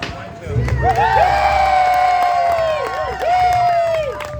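A Renaissance faire audience roars for a bard contest, a loud sustained scream from one voice rising over crowd cheering and clapping, then a second shriek near the end.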